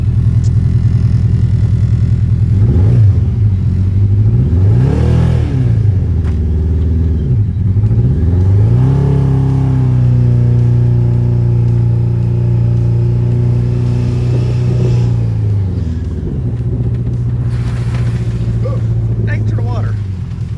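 Engine of a sketchy homemade golf cart revving and accelerating, a loud continuous droning rumble that rises and falls in pitch through several throttle pulls, with people talking over it.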